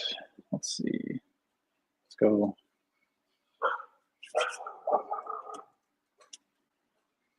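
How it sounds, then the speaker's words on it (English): Several short, sharp dog barks in scattered bursts, some at a distance, mixed with a person talking briefly. "Sorry if you guys hear the dogs barking."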